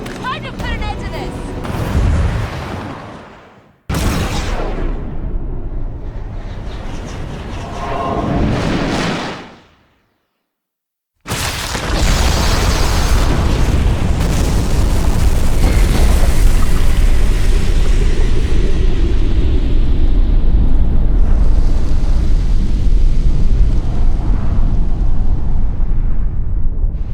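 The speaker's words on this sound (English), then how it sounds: "a one-way trip to hell, courtesy of our best friend, the rocket launcher" Rocket launcher explosions in the Resident Evil Revelations 2 video game: a heavy, sustained roaring blast with rumbling debris fills the second half after a brief silence, preceded by loud bursts mixed with voices.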